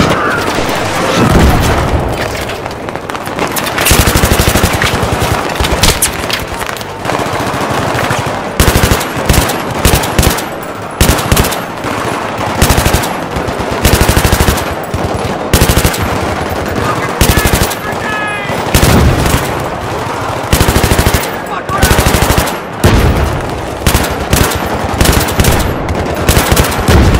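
A light machine gun in Battlefield 3 fires in long, loud bursts, with dense rattling fire that repeats through most of the stretch, mixed with other gunfire and occasional booms.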